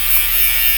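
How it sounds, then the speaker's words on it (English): A Babyliss electric hair trimmer switched on and buzzing, a brief, close, steady high-pitched electric whine with no speech. "So you would turn the trimmer on like this"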